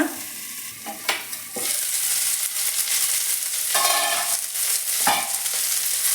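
Moringa leaves fry in a pan before eggs are added, with a steady close sizzle broken by several sharp scraping stirs of a utensil and no voices.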